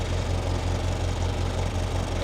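A small MG Midget car engine idling just after starting, a loud, steady, close rumble with an even low pulse throughout.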